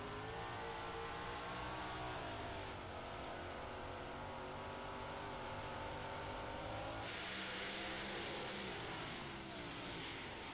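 Race cars roar around the I-55 Speedway oval at full throttle, a dense continuous engine drone that shifts slightly as they pass, heard from close by with no clear voices.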